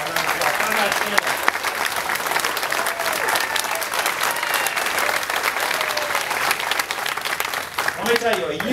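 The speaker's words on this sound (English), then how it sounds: "go ahead and give him a round of applause" A crowd applauds for Senator Conrad Appel at an event with the governor, sustained loud clapping that fills the room for several seconds with a few voices mixed in.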